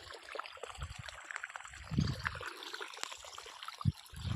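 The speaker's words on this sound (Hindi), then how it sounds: "यहाँ पे चल रहा है पानी।" Irrigation water runs through a farm field channel, trickling and gurgling nearby in uneven splashes with a few louder bursts, alone without talk.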